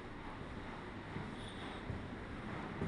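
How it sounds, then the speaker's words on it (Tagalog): Steady strong wind roars and buffets the microphone throughout, a continuous broad rushing with no speech, on a ship's gangway during watch duty. "Lakas ng hangin."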